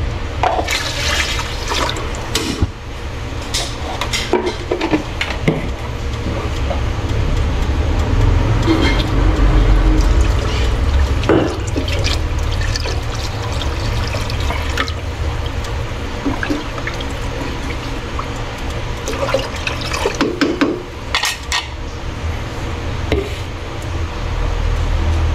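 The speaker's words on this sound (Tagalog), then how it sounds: "Sasabaw na lang ulit. Dagdagan ng tubig." Water poured into a cooking pot during home meal preparation, a steady loud liquid rush running continuously with some clatter, no talk over it.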